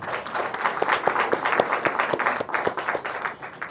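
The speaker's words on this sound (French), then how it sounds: "Sous vos applaudissements s'il vous plaît" Wedding guests at a French civil marriage ceremony applaud together, a steady, moderately loud patter of many hands with a few sharp individual claps standing out, lasting several seconds.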